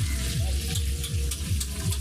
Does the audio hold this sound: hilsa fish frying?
yes